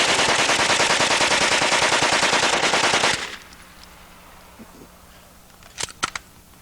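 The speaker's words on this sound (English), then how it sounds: "Friends, this is a 9mm. This is a true submachine gun." A 9mm submachine gun fires a long, rapid automatic burst at close range, loud and evenly spaced, then stops abruptly, followed by quieter clicks and a few small mechanical handling sounds.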